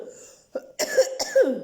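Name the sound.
cough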